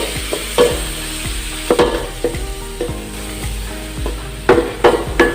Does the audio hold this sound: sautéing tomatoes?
yes